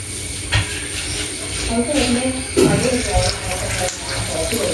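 Parippu vada dropped into hot oil fry with a steady close hiss and bubbling, and a few sharper sizzles flare as each piece goes in.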